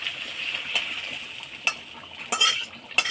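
Capsicum and onion tipped onto cooked chicken in a pan for chicken do pyaza, then stirred: scraping utensil strokes and a few sharp metallic clinks over a steady, soft sizzle, close by, with no talking.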